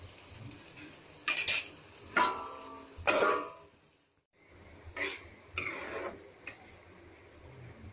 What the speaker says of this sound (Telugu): ఒకసారి ఆ జీలకర్ర అంతా మొత్తం కలిసిపోయేటట్టుగా మొత్తం కలిపేసుకొని